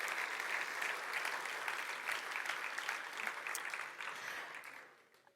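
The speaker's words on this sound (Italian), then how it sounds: "Fatevi già un grande applauso perché è tutto meritatissimo." Sustained audience applause at an award ceremony, a dense steady clatter of many hands that holds evenly before tapering off at the end, with no voices over it.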